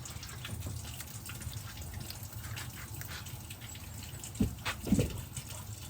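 Tap water runs steadily in a soft continuous stream as hands are washed beneath it, with a few louder splashes near the end.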